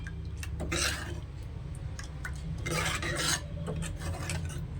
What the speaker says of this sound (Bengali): এবারে যে চালের ব্যাটারটা রেখেছিলাম এটা ভালোভাবে গুলে নিতে হবে।